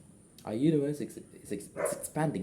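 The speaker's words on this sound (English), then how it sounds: "And I'm sorry for the dog barking right now." A dog barks in the background while someone talks steadily over it, the barks partly buried under his voice.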